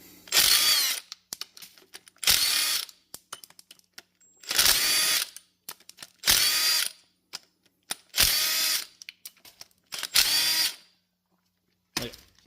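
Ratchet wrench with a 10 mm socket zipping out bolts on a 2012 VW Tiguan TDI: six or seven loud bursts of rapid pawl clicking, each about a second long, separated by short pauses, close up and with no talk.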